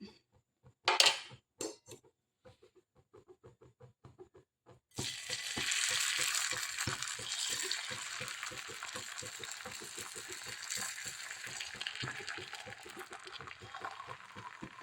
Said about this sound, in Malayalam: ഞാൻ മുട്ട പൊരിക്കാനായിട്ട് നല്ലെണ്ണ ഒഴിച്ചു കൊടുത്ത് അപ്പൊ ഞാൻ മുട്ട ഒഴിച്ചു കൊടുക്കാം